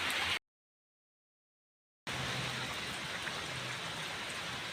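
Steady rain pours down during the monsoon, a dense, even hiss that cuts out briefly into silence and then resumes just as heavily, with no voices.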